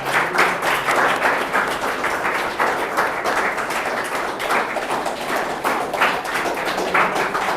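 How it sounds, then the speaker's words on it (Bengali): A crowd applauds at a ceremony at a residential coaching centre for defence-force aspirants, with dense, steady clapping that stays loud and even for the whole stretch. "তালিয়া।"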